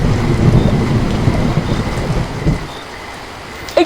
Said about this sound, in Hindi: ये लो, बारिश भी शुरू हो गई।